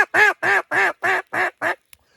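Six quick, evenly spaced quacks blown on a handheld duck call, close and loud with nothing else around them, followed by a tiny click and silence.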